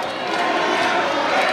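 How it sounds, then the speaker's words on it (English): Kickboxing event crowd chanting a fighter's name, a dense, loud, continuous roar of many voices filling the arena without pause. "The crowd shouting, Risco, Risco behind us."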